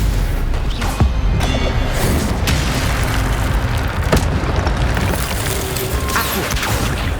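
Spell blasts in the game Hogwarts Legacy boom and burst loudly over a dense, rumbling battle din, with repeated impacts through the passage.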